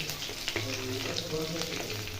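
Cumin seeds, curry leaves and chopped green chili frying in hot oil, a steady low crackle and sizzle with a few pops, quiet and close.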